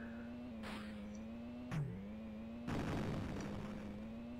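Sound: missile explosion hitting a car, Super Cars II video game

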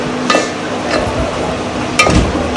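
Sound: onion gravy frying and being stirred in a pan

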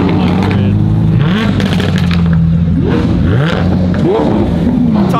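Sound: Lamborghini LP700 engine revving

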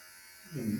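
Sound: electric clipper cutting an animal's hair

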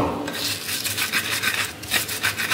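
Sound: grinding ingredients with a mortar and pestle (ulek)

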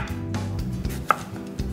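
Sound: knife chopping apple

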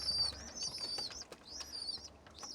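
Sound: pigeon chicks

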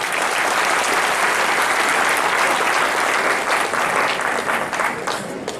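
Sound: audience applause at a political rally

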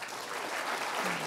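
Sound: round of applause for the first panelist

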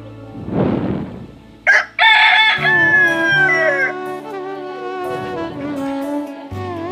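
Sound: chickens clucking and rooster crowing

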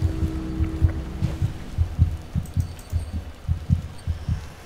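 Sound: heartbeat in the video game Among the Sleep

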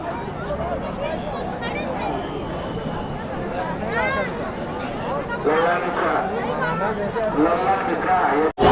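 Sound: crowd at the Maha Kumbh Mela

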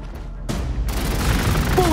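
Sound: gunfire in Warhammer 40k Space Marine video game

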